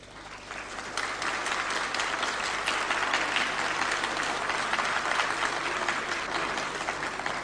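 Parliament chamber fills with sustained, dense applause from many members, building quickly and holding at an even level throughout.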